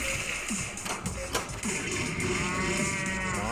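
Cow mooing sound effect from a Galactic Tank Force pinball machine in a noisy arcade, with a short low moo over a steady machine and room din, plus faint taps and shuffling nearby.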